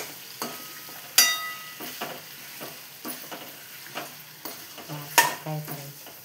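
Vegetables frying in a pan are stirred with repeated scraping strokes and clinks of the utensil over a low sizzle, close and rhythmic, with no talking.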